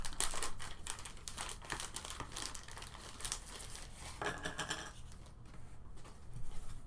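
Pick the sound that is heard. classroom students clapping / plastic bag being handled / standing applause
plastic bag being handled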